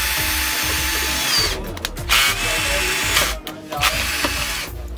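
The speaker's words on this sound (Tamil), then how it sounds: "கார்ட்லெஸ் பேட்டரி ட்ரில்லாம் வேணும் உங்களுக்கு" A cordless battery drill with double-speed adjustment runs in loud, repeated bursts of whirring and ratcheting, close by at a power tools wholesale market, with no talk over it.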